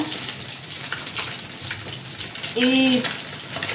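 Fish fries in oil, sizzling and crackling in a pan with a steady hiss; a brief high-pitched voice-like tone cuts in near the end.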